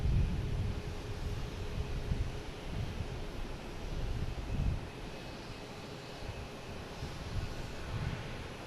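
A jet airliner coming in to land on runway 4 Right at Boston Logan airport, heard as a steady broadband engine roar mixed with wind noise, sustained and fairly loud throughout without any speech.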